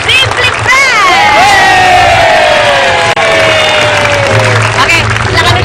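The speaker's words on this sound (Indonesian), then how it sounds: "Tepuk tangan dong buat Mbak Imo" Studio audience on a TV talk show, a dense wash of applause and cheering with whoops that carries loud and continuous under a host's voice.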